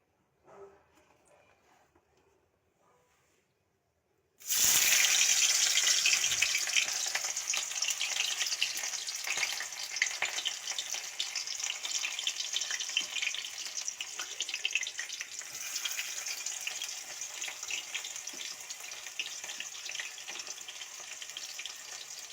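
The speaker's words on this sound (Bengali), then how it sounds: "কড়াই বসিয়ে দিয়েছি, তেল গরম হচ্ছে, আর তেলের মধ্যে জাস্ট পেঁয়াজটাকে ছেড়ে দেবো।" Onion dropped into hot oil in a kadai for a Bengali fish-oil curry, bursting into a loud, steady sizzle after a few seconds of near silence and continuing strongly throughout.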